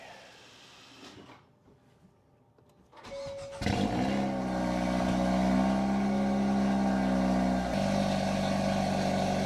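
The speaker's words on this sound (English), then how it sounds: "All right, we're ready for the first cold start." A car engine cold-starts after a whoosh downpipe install: a brief cranking whir, then a loud catch into a steady, droning high idle that settles slightly lower near the end, heard close up.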